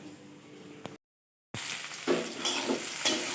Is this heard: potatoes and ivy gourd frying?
yes